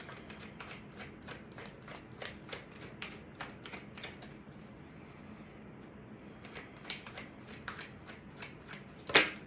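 Soul's Journey lesson cards being shuffled for a reading: soft, rapid riffling flutters repeating in quick bursts, fairly quiet and close, ending with a sharper snap of cards, with no voice over it.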